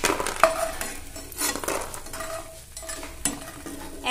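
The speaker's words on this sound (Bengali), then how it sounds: "দেখতেই পাচ্ছেন ডালের বড়িগুলো আমি হালকা লাল করে ভেজে নিয়েছি। ভাজা হয়ে গেছে, এবার আমি তুলে নিচ্ছি।" Fried lentil dumplings (bori) are lifted from hot oil in a pan, with soft sizzling, a stirring scrape and a few sharp metal clinks from the utensil.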